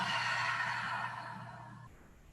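A deep breath in followed by a long, big exhale during a guided vinyasa yoga session, close and breathy, fading out gradually at the end with no words spoken.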